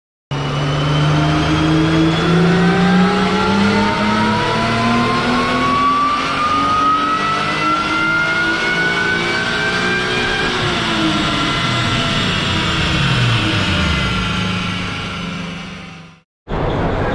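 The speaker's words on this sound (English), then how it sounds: "took it to the dyno to see what it made, and here's that video clip" Supercharged Acura TL engine revving hard on a dyno: a loud, close, continuous roar climbing steadily in pitch through a long pull with supercharger whine layered on top, then suddenly cutting off near the end.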